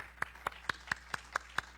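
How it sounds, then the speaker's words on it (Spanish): A congregation claps in a church service, a steady run of about eight evenly spaced, fairly faint claps. "Regálenme un aplauso para todos ellos"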